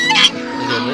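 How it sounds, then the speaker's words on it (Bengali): Four village geese call in a short burst of loud, harsh, clucking honks, close by in a muddy lowland reached by boat; the calls fade into a softer background after the first half second. "চারটা রাজহাঁস আছে।"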